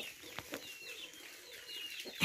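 A loose chicken out of its coop on a small farm gives soft clucks and a brief flurry of wing flapping, fairly faint with a sharper burst right at the end.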